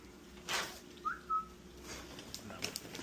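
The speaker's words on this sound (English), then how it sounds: "Did you just whistle at me?" A short, faint two-note whistle rises and then holds, sounding through quiet background noise in a hospital operating room.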